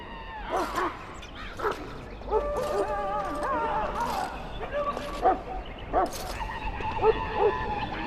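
A Mabari hound in the fantasy video game Dragon Age Origins barks and whines in a castle setting, several short yelps scattered over game music, fairly quiet in the mix.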